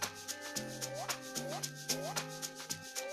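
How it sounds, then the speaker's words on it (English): A busy synth melody from the Substance synth in Caustic 3 plays over a dense amapiano-style loop, with sustained tones, gliding upward pitch swoops and steady percussive hits layered throughout. "I have my melodies which are in the substance, the PQ circles, and they sound like this."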